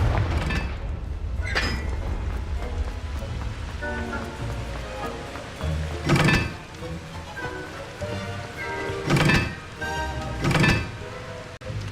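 Confringo blasting spell explosions in Hogwarts Legacy, several sharp booming bursts spaced a few seconds apart over a busy rumbling game soundscape, no voices.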